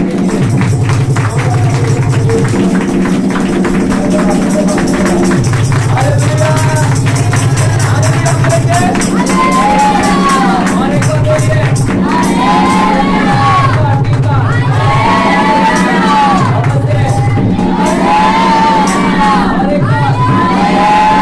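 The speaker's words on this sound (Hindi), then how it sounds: "आइए जोरदार तालियों से प्रभु यीशु मसीह के लिए" A church congregation at a Sunday worship service applauding loudly for Jesus, a dense sustained wash of clapping and cheering mixed with music, with a voice calling out over the crowd.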